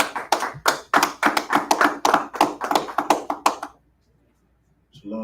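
Rhythmic group clapping at a Wednesday law class of the Israelite School of University of Practical Knowledge in Houston, steady sharp claps for about four seconds, then stopping into near silence.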